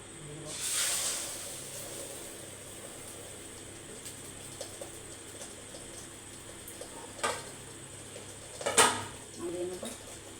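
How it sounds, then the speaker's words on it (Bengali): Egg paratha hits shallow hot oil with a brief burst of hissing, then a low steady sizzle with scattered clinks and scraping sounds, fairly quiet overall. "তেলটা গরম হয়ে গেছে ওকে আমি ডুবিয়ে নিয়েছি এবারে এইটা তেলে"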